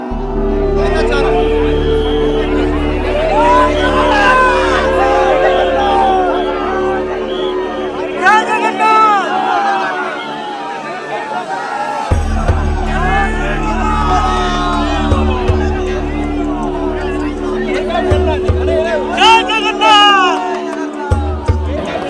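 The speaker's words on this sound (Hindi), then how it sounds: "कुछ लोग चिल्ला रहे हैं, कुछ लोग धक्के दे रहे हैं" Dense crowd at the Jagannath Rath Yatra festival, a loud continuous roar of shouting, whoops and babbling voices with steady low rumbling underneath, pressing close and never letting up.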